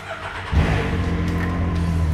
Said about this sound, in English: Then start your engine and let it warm up.